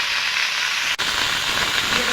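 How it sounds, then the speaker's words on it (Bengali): Pumpkin greens dropped into hot oil in a wok, giving a loud continuous hissing sizzle that carries on steadily after a brief dip. "কড়াইতে তেল রয়েছে, আমি এই শাকগুলো দিয়ে দেবো এবারের মধ্যে।"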